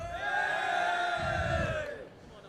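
Crowd at a gaming expo League of Legends event cheering and whooping together in a loud, sustained roar that swells and then fades away after about two seconds.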